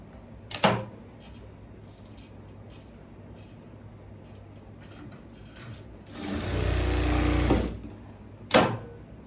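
A sewing machine stitches a cross piece onto a churidhar yoke neck in one loud sustained burst of about a second and a half, with a sharp knock before it and another after, and no talking.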